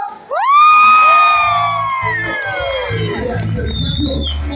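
Cheers for the girls from a crowd: a loud, high rising whoop leads into sustained cheering and shouting that slowly fades into a murmur of crowd noise.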